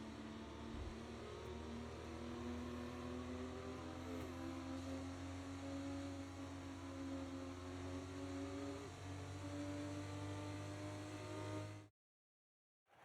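Formula race car engine in the F1 24 video game, a steady high-pitched whine holding near constant revs for about twelve seconds before cutting to silence.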